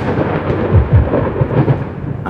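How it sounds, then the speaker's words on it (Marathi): A loud, deep thunder clap rumbles close and heavy, swelling and rolling for about two seconds against a stormy background, with no talk. "आकाशात एक जोराची वीज कडाडली."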